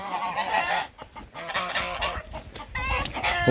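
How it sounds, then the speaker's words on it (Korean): Several chickens cluck and squawk close by in a busy, overlapping chorus on a countryside farm, with a louder goose honking call near the end. "닭이 잔뜩 있고"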